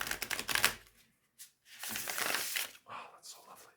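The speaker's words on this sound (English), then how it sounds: "these cards shuffle like a dream" Tarot cards from the Spirit Keeper's Tarot Revelation Edition are riffle shuffled in close, crisp fluttering bursts, with short pauses and soft handling noises between the riffles.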